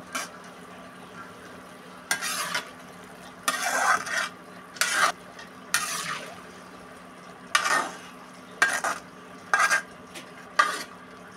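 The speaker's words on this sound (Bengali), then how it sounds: "এখন আগে থেকে ভেজে রাখা বুন্দিয়াগুলো দিয়ে দিতে হবে। 5 মিনিট জাল করার পর চুলা বন্ধ করে" A spoon stirs fried besan boondi in a pot, with a series of short, scraping strokes in irregular rhythm over a faint background hum, close and moderately loud.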